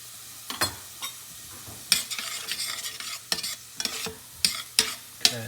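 Garlic frying in a pan for huevos rancheros, stirred repeatedly: sharp scraping and clacking strokes at irregular intervals over a faint low sizzle and hum, close and alone without voices.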